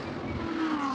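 GT3 race cars come over the timing line during free practice at the Greater Bay Area GT Cup, an engine booming past at a moderate distance with a falling pitch and wind noise.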